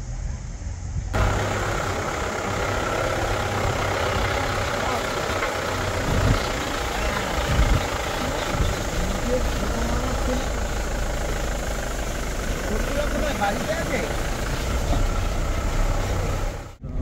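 Vehicles are stuck idling in a traffic jam on a steep mountain road near Joshimath, giving a constant low engine rumble with occasional heavier surges. Nobody speaks.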